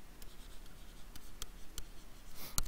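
Faint pen or marker scratching across paper or a board while an ionic equation is written, soft continuous strokes with a few sharper taps, quiet and close.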